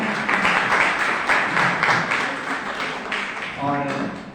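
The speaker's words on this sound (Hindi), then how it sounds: "एक जोरदार तालियां, थोड़ी कस के और हो जाए।" Audience applause at a New Year's Eve gathering as a bouquet is presented: a few seconds of steady, full clapping from a crowd, fading as a voice begins speaking near the end.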